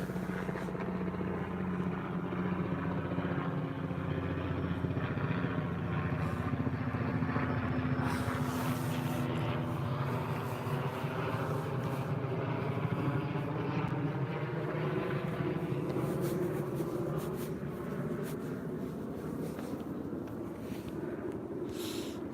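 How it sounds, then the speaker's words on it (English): Helicopter passing over a rural railway level crossing, a low droning rotor and engine rumble that swells and slowly fades, heard from a distance and alone. "There's a helicopter."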